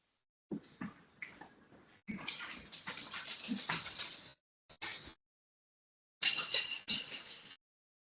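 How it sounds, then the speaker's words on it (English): A little French bulldog whimpers and snuffles indoors, quiet at first, then in louder bursts, interrupted by a short silence before one final burst of whining. "he was a little French bulldog, and he think he wanted to come and hang out"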